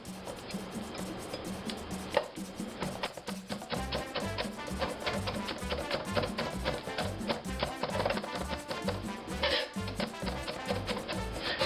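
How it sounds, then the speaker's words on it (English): Knife rough-chopping vegetables on a board for Spanish rice, fast rapid taps in a steady run, close and fairly loud, with no talking. "I'm just doing a rough chop right now"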